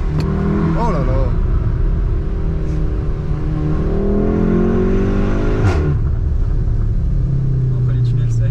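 Volkswagen Golf 5 R32 engine revving inside a tunnel, a loud continuous rumble that rises and falls, with excited people talking over it.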